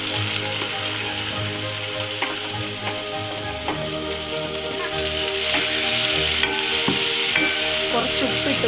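Sliced onions sauté in a pan for chicken gravy with a steady, close sizzle, while scraping stirs clack now and then.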